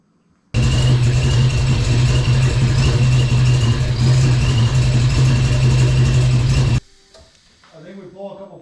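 A 10-year project Ford Mustang engine, just fitted with a new fuel system, fires up and runs at a loud steady idle for about six seconds, then cuts off abruptly, leaving quieter talk.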